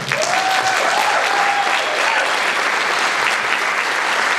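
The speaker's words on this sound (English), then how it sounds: "let's have a round of applause for him" Steady, dense applause from a concert audience at a jazz camp, greeting a vocalist; loud, continuous clapping fills the whole stretch, with a faint sustained tone drifting briefly early on.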